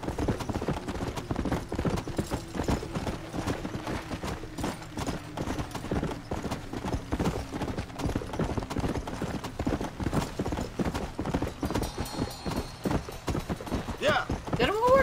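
Rapid hoofbeats of a horse gallop in a steady, driving rhythm throughout in the video game Red Dead Redemption: Undead Nightmare, with a horse whinny near the end; speech is faintly mixed in.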